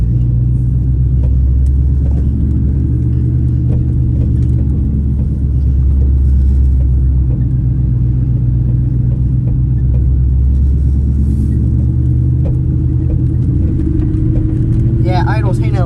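A Ford Mustang GT rolls slowly through a yard, its V8 giving a steady low rumble up close that barely changes throughout, with a voice talking over it.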